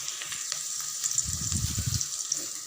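Sliced onions tempering in a hot pan for chicken gravy give a steady, close sizzle and crackle throughout, with bursts of stirring noise in the middle.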